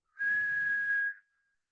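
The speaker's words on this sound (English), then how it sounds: "Exhale with a whistle." A single steady whistled exhale during yoga breathing practice, one clear sustained tone lasting about a second, close and alone, then silence.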